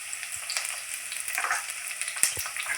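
Chopped onions fry in a pan for soya manchurian, giving a soft, steady crackling sizzle with occasional light stirring clicks close by.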